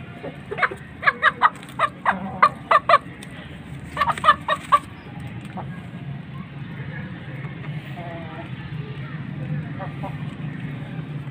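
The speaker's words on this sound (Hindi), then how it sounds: "ये भी मुर्गी है जनाब" Chickens cluck in quick, clustered bursts close by, then fade into a steady murmur of background noise and distant activity.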